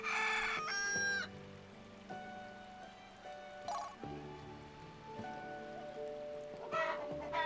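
A chicken in the video game Valkyrie Profile 2 lets out a loud crow at the start and again near the end, with softer clucks between them, over a sustained musical background.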